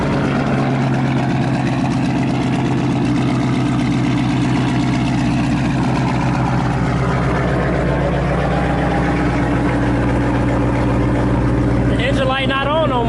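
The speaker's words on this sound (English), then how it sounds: "Is it idling good? It sounds normal." A Camaro ZL1 engine idling after repair, a loud, steady low rumble with a constant throb running the whole time while people talk over it.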